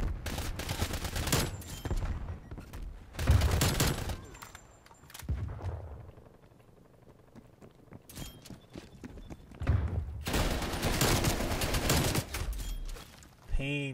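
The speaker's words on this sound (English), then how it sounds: "put the artillery right where I'm running" An artillery strike lands in Call of Duty gameplay on the Drive-In map, with loud bursts of explosions and gunfire in two heavy clusters separated by a quieter stretch.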